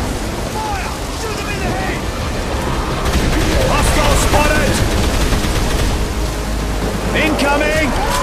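Gunfire in Dead Island Riptide aboard a boat in fog at sea: scattered bursts and rattling shots under steady engine and water rumble, with shouting voices mixed in.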